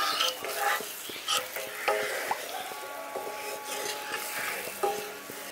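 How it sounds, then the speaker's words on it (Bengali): Milk is stirred into carrots in a cooking pot, producing repeated close spoon scrapes and light knocks over a soft, steady simmering hiss. "এখানে ভালো করে মিশিয়ে দিচ্ছি।"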